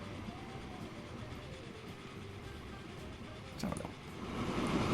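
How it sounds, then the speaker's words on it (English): A train rolls into a station in the Transport Fever video game, a steady rumbling rail noise with rhythmic clatter that builds louder toward the end. "Here's the next train coming up."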